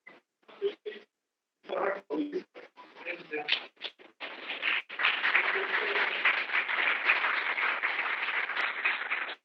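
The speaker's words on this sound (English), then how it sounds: "Can we have a big round of applause for this release of the book, Journal of OMS?" At a conference's inaugural program, scattered claps and voices start up and then swell into sustained applause from the audience, heard at a modest distance.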